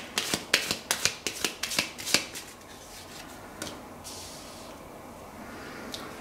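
Tarot cards being shuffled at close range in a quiet room, a quick run of crisp riffling flicks for about two seconds, then a few scattered soft card taps and near silence.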